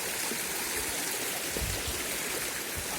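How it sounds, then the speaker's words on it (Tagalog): A strong river current rushes steadily on a hike toward Eva Falls in DRT, Bulacan, a continuous loud wash of water close by with no voices. "Medyo uh, malakas-lakas ng agos kaya medyo konting ingat."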